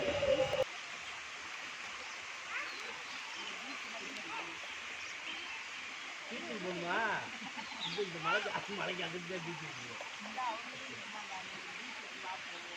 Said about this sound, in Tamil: அந்த ஃபால்ஸோட சவுண்டு தான் இங்கே வரைக்கும் நல்லா கேட்குது